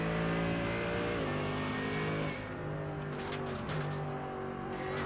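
A McLaren race car engine in an iRacing game at VIR (Virginia International Raceway) drones at steady high revs, then drops through a gear change and climbs again; sustained and fairly loud, with no talk.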